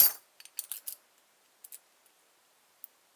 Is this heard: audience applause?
no